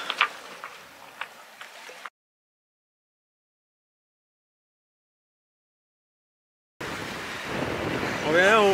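Strong wind buffeting a sailboat at sea on a passage from Brazil to Uruguay after leaving La Paloma, heard as loud rushing gusts and wind roar against the microphone in two bursts separated by a long silent gap, with faint hull and water noise.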